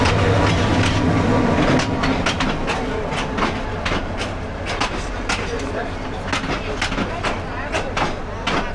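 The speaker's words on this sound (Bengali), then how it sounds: "এখন এই যে ট্রেন ঢুকলো, একটা লোকাল ট্রেন ঢুকতেছে।" A local commuter train pulls into Gafargaon railway station in Bangladesh, loud close rumble with rhythmic clickety-clack of wheels over rail joints and someone talking over the noise.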